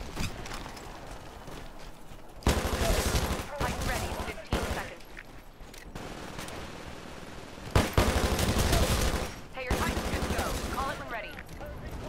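Rapid bursts of gunfire in the video game Titanfall crack out loudly in several clusters, separated by quieter stretches of game ambience and footstep-like tapping.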